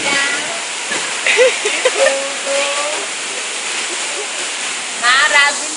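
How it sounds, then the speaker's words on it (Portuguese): The Caembe waterfall in Brazil roars as a constant loud rush of falling water, with someone talking excitedly over it. "Na Cachoeira de Caembe!"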